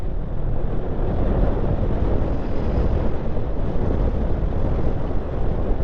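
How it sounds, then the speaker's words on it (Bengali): A strong wind blows through casuarina forest on both sides of the road in a steady, loud rushing roar that rumbles on without pause and without voices. "দারুণ হাওয়া চলছে, বেশ জোরে হাওয়া চলছে"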